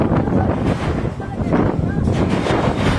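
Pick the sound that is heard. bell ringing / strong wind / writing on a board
strong wind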